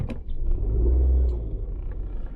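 A manual car pulls away uphill as the clutch is released, with a low engine rumble that swells briefly, then settles to a steady drone while someone talks over it.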